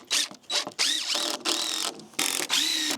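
A power driver sinks a screw into a deck board, with several short bursts of whining motor and grinding close by, and no talk.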